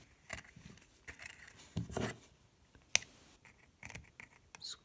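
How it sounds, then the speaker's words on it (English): Wire snipped with cutters while bending a small DIY wire tree, a few quiet crisp clicks and scrapes close up, with soft handling noise between cuts. "cut this right here."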